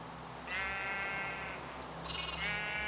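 Baby sheep bleating in Minecraft, two short high-pitched bleats in quick succession over a low background hum.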